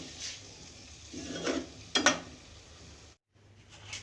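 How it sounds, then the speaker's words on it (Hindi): Chicken fries in a pot for nihari while a spoon stirs and scrapes against the metal, bringing a few clinks and a soft sizzle, quiet and close, with a brief silent gap near the end. "अब मैं इसको भूनूंगी बहुत अच्छी तरह"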